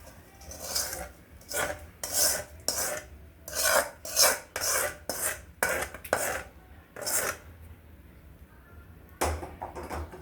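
Spice tempering being mixed into roasted poha chivda, repeated close scraping and rasping bursts from stirring and tossing the dry flakes in a pan, with short pauses between strokes.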